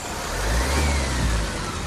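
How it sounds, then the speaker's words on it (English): A Toyota Avensis with a newly installed engine revs steadily up close, a continuous loud low rumble that swells and settles over about two seconds with no voices. "rev the car"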